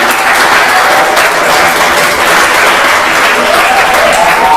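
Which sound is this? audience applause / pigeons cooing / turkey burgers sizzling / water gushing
audience applause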